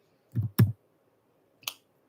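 A few quick clicks of keys on a computer keyboard, three soft separate taps close to the mic in an otherwise quiet room.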